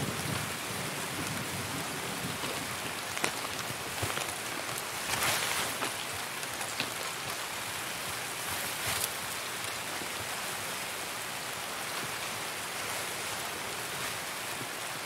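Steady rain falling in a video game, a dense continuous hiss with a few brief louder spatters, holding an even level throughout with no voices present.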